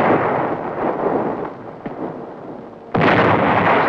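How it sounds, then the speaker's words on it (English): An icebreaker's guns fire at an Antarctic ice shelf, booming blasts that roll into a long, rumbling decay, followed by a fresh loud report near the end. "the icebreaker attempted to blast out a docking area with gunfire"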